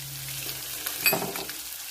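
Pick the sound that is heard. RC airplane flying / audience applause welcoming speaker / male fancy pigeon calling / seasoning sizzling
seasoning sizzling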